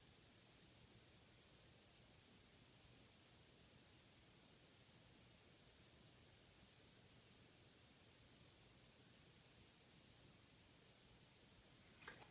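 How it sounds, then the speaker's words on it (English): A Casio Pro Trek PRG-270 digital watch countdown timer beeps in ten evenly spaced high-pitched bursts, each a quick cluster of electronic tones, then stops, leaving quiet background. "And that's the amount of the beep that you get out of it"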